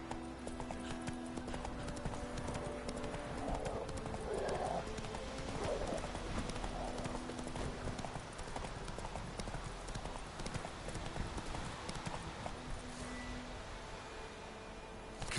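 Hoofbeats of a horse galloping in the video game The Witcher 3 drum steadily and loudly for the whole stretch, with a brief whinny partway through over a constant bed of game ambience.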